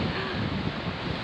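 Strong wind sweeps the coast at Cancale on the Emerald Coast, a loud, continuous roar of gusts buffeting the microphone with surf and sea spray hissing underneath.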